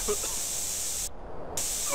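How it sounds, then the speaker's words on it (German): Spray can hissing in the video game GTA San Andreas, a steady bright spray that briefly cuts out mid-clip and then resumes, with faint game sounds underneath. "So, zu Tode gesprüht von der Spraydose."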